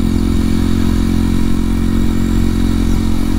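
2023 Kawasaki KLX 230SM exhaust under way on the road, a loud, steady single-cylinder drone with a dense low rumble and constant wind rush, heard alone throughout.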